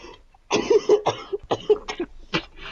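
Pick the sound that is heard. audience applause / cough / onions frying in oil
cough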